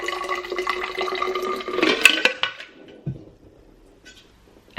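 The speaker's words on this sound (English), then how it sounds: "I'm just gonna pop the cold water into the jug" Cold water poured from a container into a jug, a steady splashing, gurgling stream for about two seconds that tapers off, followed by a few light clinks and quiet handling.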